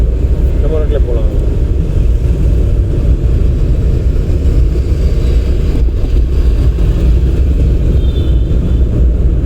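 A car driving on a road during a driving lesson gives a steady low engine rumble and road noise that runs unbroken throughout, with voices faintly present inside the cabin.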